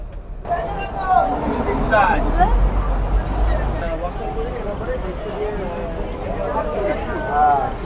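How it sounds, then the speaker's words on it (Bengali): A tourist boat's engine rumbles low and steady as the boat leaves Sajnekhali in the Sundarbans, with water noise and people talking throughout. "আমাদের বোট সজনেখালি থেকে ছেড়ে রওনা দিয়ে দিয়েছে লোকনাথ বাবা মন্দিরের উদ্দেশ্যে"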